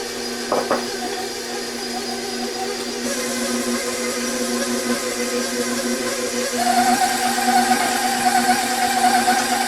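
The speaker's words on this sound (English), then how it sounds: "Mix until it masses together, and it'll start cleaning the bowl" An electric stand mixer churns pumpkin cookie dough with an added egg in a bowl, a steady motor whir running throughout that rises slightly in pitch and intensity partway through.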